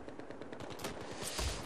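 Gunfire in the video game Battlefield 4 beta on PlayStation 3, rapid automatic bursts of shots rattling continuously, growing louder toward the end.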